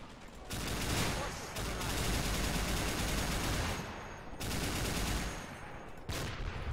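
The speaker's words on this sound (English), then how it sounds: "Gonna rotate this machine gun around." A machine gun fires in the video game Men of War Assault Squad 2, sustained loud bursts of rapid gunfire broken by short pauses, forming about four long volleys.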